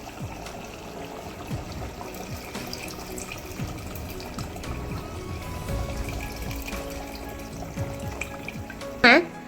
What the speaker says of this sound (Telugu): ఇప్పుడు ఇగో చింతపండు రసం పోసుకోవాలి